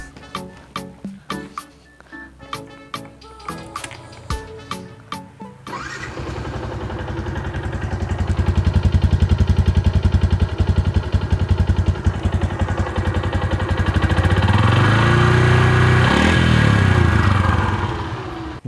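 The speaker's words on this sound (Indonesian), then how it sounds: "Senang banget dengerin suara knalpot MX yang halus." A Yamaha Jupiter MX motorcycle is cranked with a series of sharp separate starter clicks, then its engine catches and runs with a loud, smooth, even exhaust note, briefly rising in revs before settling.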